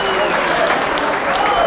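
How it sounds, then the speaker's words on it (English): An audience at a 1997 US Open 9-ball championship pool match gives a loud, steady burst of applause, with a voice talking over it. "The applause that you just heard was for Parica"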